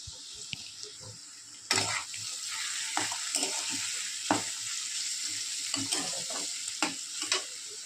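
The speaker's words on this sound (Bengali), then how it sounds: "এখানে রাইসের সবজিগুলো ফ্রাই হচ্ছে।" Vegetables for fried rice sizzle in a hot pan, a steady frying hiss broken by repeated scraping and clattering stirs.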